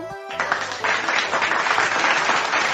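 A brief tone fades into a burst of dense, steady clapping that swells and holds at full strength for a couple of seconds, close and loud.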